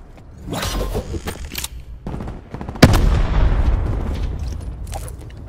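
A frag grenade going off in Black Ops 4 gameplay, one sharp loud blast with a rumbling tail, amid earlier bursts of gunfire.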